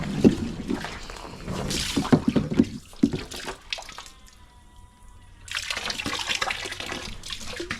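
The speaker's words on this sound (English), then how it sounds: "does not seem to be running at full pressure, so I'm gonna go check the hose" Water running from an outdoor hose at an animal pen, a splashing, hissing flow with uneven bursts and a quieter stretch midway before the rush resumes, with rustling handling noise around it.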